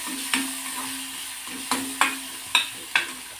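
Cut spiny gourd (kartule) is stirred with masala in a pan, with five sharp scraping knocks at uneven intervals over a faint background.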